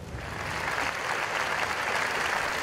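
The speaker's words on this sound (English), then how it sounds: "the crowd broke into applause" Crowd applause at a Barcelona memorial gathering, a dense steady wash of clapping from many people that holds evenly for the whole stretch.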